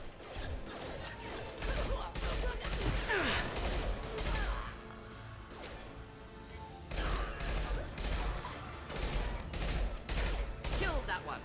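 Sustained gunfire from a Mass Effect 2 firefight, with bursts of rapid shots repeating throughout, heavy and dense, continuing under faint background noise with occasional mechanical clatter.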